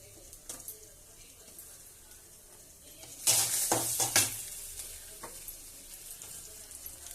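Ginger tossed into hot oil in a pan for peerkangai chutney, bursting into a loud sizzle that holds for about a second, with faint utensil clinks before and after.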